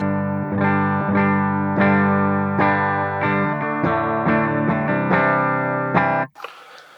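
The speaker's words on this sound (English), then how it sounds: "Turn off the acoustic, turn on the electric, and we've got the bog standard default amp and cab" Electric guitar through a Fractal amp modeler's default amp and cab plays a rhythmic series of strummed chords with a slightly driven, full tone before cutting off abruptly.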